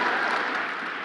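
Crowd applause at a political talk event, a dense steady wash of clapping from many hands, loud and continuous for the whole short stretch with no voice over it.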